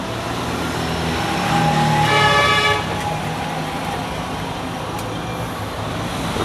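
Roadside traffic outside a phone repair shop: a steady roar of passing vehicles with a prolonged car horn blaring for about a second midway, then continuous road noise carrying on.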